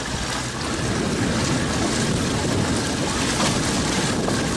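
A Johnson 60 hp outboard motor runs on the water with a loud, steady broadband roar that masks other sounds and does not let up.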